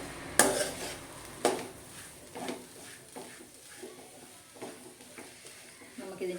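Chicken cutlet filling being stirred in a pan, with repeated utensil scrapes and knocks against the metal over a faint sizzle, close and fairly quiet.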